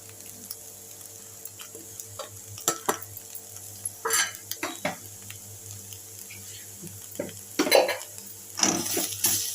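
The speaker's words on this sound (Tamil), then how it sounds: "பன்னீர் போட்டு லைட்டாக கிண்டலாம்." Grated paneer stirred in a frying pan for a soft stuffed chapatti filling, with a low constant sizzle and several bursts of spatula scraping and clanking against the pan, close by.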